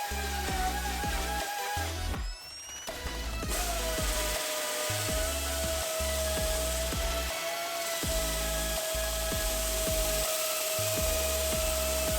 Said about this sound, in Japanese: しっかりと FRP が固まりました。 あとは削って形を合わせていきます。